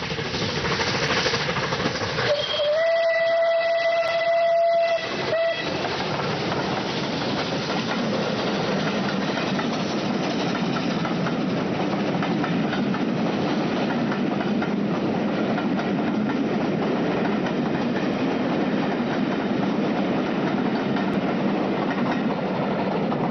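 A Canadian Pacific locomotive rumbles steadily along the track with a constant roar and faint clatter, and a brief horn-like tone sounds near the start.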